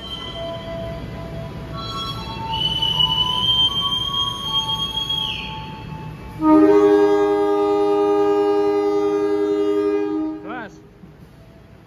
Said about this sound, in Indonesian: Logawa berangkat kembali dari stasiun Lempuyangan menuju ke tujuan akhir di stasiun ujung timur Pulau Jawa